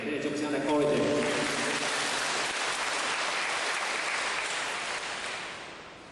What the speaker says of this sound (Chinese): 咱大家用热烈的掌声来鼓励一下